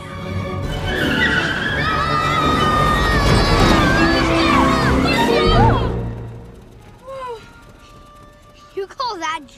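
A car lurches along with skidding tires and engine noise beneath loud overlapping shouting and screaming voices, then fades out, leaving a few short vocal exclamations.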